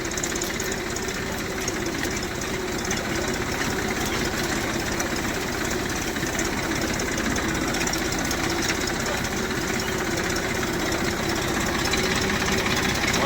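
A Mahindra Yuvo 575 DI tractor engine idles steadily nearby on a farm field, a constant low chugging drone that holds unchanged the whole time.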